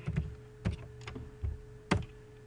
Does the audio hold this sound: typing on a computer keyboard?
yes